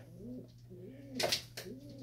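High flyer pigeons coo in their loft, repeated soft rolling calls close by, with a couple of brief bursts of rustling or wing flutter between them.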